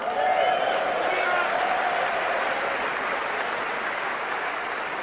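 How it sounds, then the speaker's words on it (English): A church congregation claps for themselves during a sermon on manhood and masculinity, a steady wash of applause that holds for several seconds, with crowd noise and a voice mixed in underneath. "Clap for yourself."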